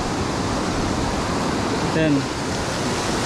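A strong river current rushes loudly and steadily at a river spot in Albay, a dense broadband roar filling the whole stretch, with a voice speaking briefly over it partway through.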